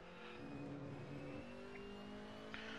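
A Group A BMW E30 race car engine at Spa, a close sustained buzzing roar holding steady revs from inside the car, with a brief shift in pitch partway through and no talk.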